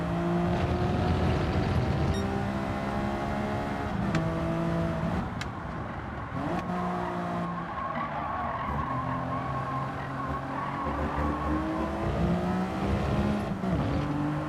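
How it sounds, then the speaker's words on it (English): A race car engine in Gran Turismo revs and howls through gear changes, pitch climbing and dropping repeatedly, with tire squeal and skidding mixed in, loud and close throughout. "God, just listen to that car. I just want to rev the whatever's out of this just to enjoy the noise"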